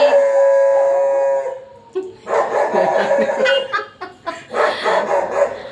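Dogs bark and howl outdoors, starting with a long sustained howl, then a series of loud, uneven barks overlapping one another.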